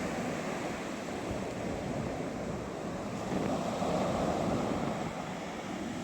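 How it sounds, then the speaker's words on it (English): Fierce, high ocean waves surge and crash onto the shore in strong wind, a continuous loud roar of surf with wind rumble on the microphone and no talking. "As you can hear the fierce ocean right now."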